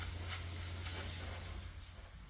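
Water spray hisses steadily while rinsing an engraved headstone, a broad close hissing rush with slight pulses, fading a little toward the end.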